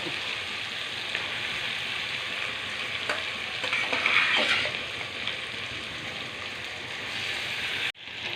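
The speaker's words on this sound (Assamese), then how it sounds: "এতিয়া এইখিনি তেলতে মই মাংস ইয়াত দি দিম।" Duck meat dropped into hot oil with onion, ginger, garlic, chili and spices, a loud continuous crackling sizzle that swells briefly midway, then cuts off abruptly near the end.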